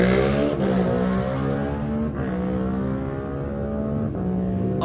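Lightweight racing motorcycles at the Manx Grand Prix on the Isle of Man roads, engines screaming loud and close, with steady high-pitched revving and brief gear-change dips as the bikes pass in succession.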